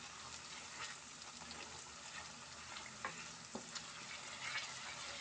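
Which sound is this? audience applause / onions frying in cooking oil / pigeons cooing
onions frying in cooking oil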